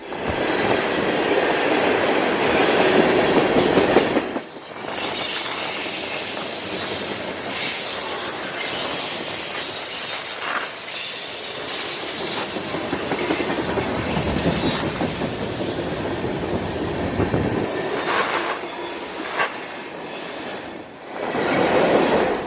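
A freight train rolls past close by, loud and continuous for over twenty seconds, with grinding wheel squeal, clattering rail joints and a brief dip where the sound thins out.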